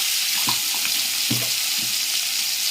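Ground thoothuvalai (Solanum trilobatum) paste for a chutney frying in hot oil just after mustard seeds have popped; a steady close sizzle runs throughout with a few soft clinks of stirring.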